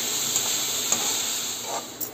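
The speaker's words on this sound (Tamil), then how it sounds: "இதை நம்ம வதக்க போகிறோம்." Chilli powder and garam masala sautéing in a hot pan, a steady soft sizzle with faint hiss and a few light stirring scrapes, close and alone with no voices.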